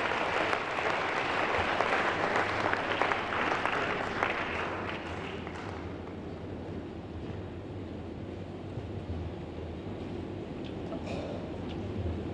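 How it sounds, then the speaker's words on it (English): Audience applause at a JoyNews peace promotion event honouring Dr. Ato Duncan, a dense sustained clapping that gradually softens toward the end. "let's give him an applause"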